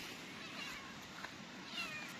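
A black female cat meows softly nearby beside a pallet-built cabin, a faint, brief call over quiet outdoor background with no speech.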